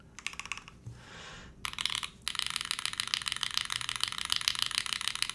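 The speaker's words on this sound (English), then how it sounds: "typically these hippo switches are really bassy, but they do not sound bassy on this keyboard at all" Typing on a Keycult TKL mechanical keyboard fitted with hippo switches, bright clacky keystrokes in quick bursts, a short pause and a brief rustle, then steady rapid typing, close and without talk.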